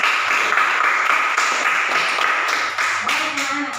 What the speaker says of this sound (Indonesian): Aplaus untuk yang sudah berikan jawaban.